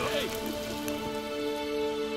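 Steady rain patters across surfaces in the video game The Witcher, a constant wash of drops running the whole time with faint tonal game sounds beneath.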